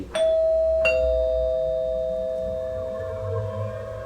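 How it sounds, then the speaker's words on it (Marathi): Two quick doorbell chimes ring out clearly, the second tone sustaining and slowly fading with no voices around it. "तेव्हाच दाराची घंटा वाजली"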